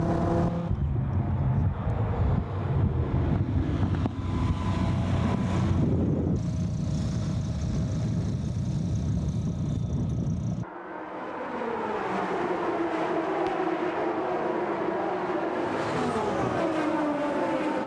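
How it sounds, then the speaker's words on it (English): A Dodge Viper pace car accelerating hard around the Indianapolis Motor Speedway, its engine roaring steadily up through the gears with heavy wind rush. One shift drops the pitch partway through before the roar builds again, loud and close from inside the car. "we're going to start accelerating to about 130 miles an hour"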